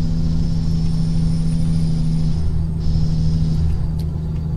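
Truck engine in Euro Truck Simulator 2, a steady low rumble of driving with a faint high whine above it. A brief shift in the tone comes partway through, with no talking.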